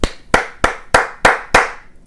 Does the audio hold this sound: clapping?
yes